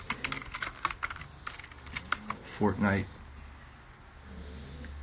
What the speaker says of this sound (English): Let me type in Fortnite.